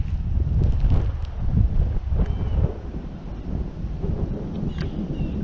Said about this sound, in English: that wind is switching back and forth across here from this side to this side